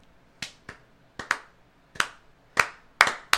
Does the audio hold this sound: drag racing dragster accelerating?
no